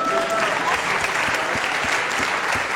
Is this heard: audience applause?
yes